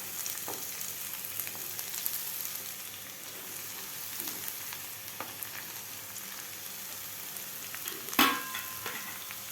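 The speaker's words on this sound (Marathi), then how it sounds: "तर गॅस आपल्याला मोठाच ठेवायचा आहे आणि भाज्या परतून घ्यायच्या आहेत आपल्याला." Carrot, capsicum and onion for veg momos sizzle on high flame in a pan, with a soft, steady frying hiss, occasional stirring scrapes, and one sharper clank near the end.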